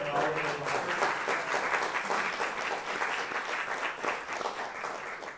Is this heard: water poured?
no